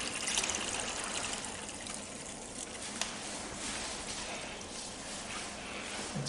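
Water flowing through an aquamation machine makes a steady, even hiss and trickle that runs unbroken throughout, with one small click partway through.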